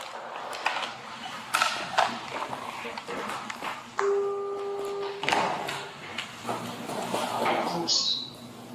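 A phone call placed on speakerphone gives a steady electronic ring tone for about a second midway, surrounded by handling clatter, muffled room noise and people talking nearby.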